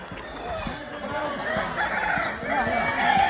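Desi village roosters and chickens clucking and squawking close together, a busy overlapping chorus of fowl calls with people chattering over them.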